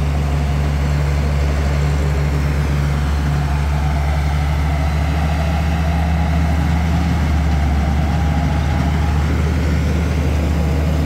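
A KM53 combine harvester engine drones steadily while cutting rice in a field, a loud, continuous low rumble with a constant hum and no change in pace.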